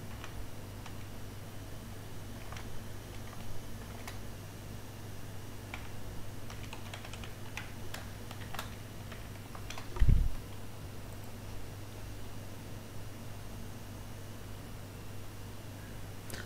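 Light, quiet keystrokes typing a username and password on a computer keyboard, scattered clicks over a steady background hum with one brief louder knock.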